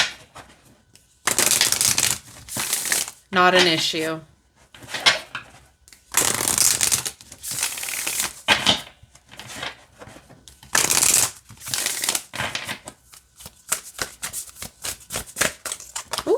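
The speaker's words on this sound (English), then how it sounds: "let's see how it shuffles" Britney Spears oracle cards being shuffled by hand in repeated bursts of riffling and sliding, close and crisp, with brief pauses between and a short spoken remark in one gap.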